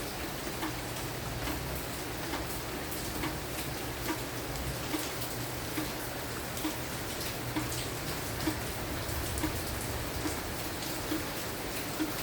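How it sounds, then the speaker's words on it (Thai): Afternoon rain falls at a house, a steady dense patter of drops on surfaces with scattered louder ticks, constant and even throughout with no voices. "บรรยากาศฝนตกที่บ้านเราค่ะ"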